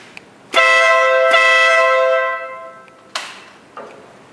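An air horn fitted to a Ural motorcycle gives one long, loud, steady blast of about two seconds, broken briefly in the middle and then fading. Two short, quieter toots follow it. No one talks.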